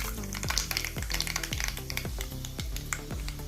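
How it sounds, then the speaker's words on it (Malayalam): Mustard seeds spluttering in hot oil with fenugreek seeds frying alongside, a dense close sizzle punctuated by rapid sharp pops and repeated rhythmic spoon strokes against the pan, with no voices. "എണ്ണ ചൂടായി ഒരു ടീസ്പൂൺ കടുക് ഇട്ട് കടുക് പൊട്ടി വരുമ്പോൾ ഒരു ടീസ്പൂൺ ഉലുവ ഇട്ട് കൊടുത്ത്"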